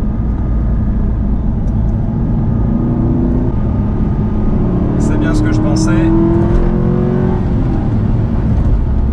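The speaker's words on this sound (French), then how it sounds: "Ce son de V8 là, le son est vraiment chouette." An Aston Martin V8 Vantage with a manual gearbox pulls hard, its V8 engine rising in a smooth, linear rev climb under steady road and wind noise, close up, while someone talks over it throughout.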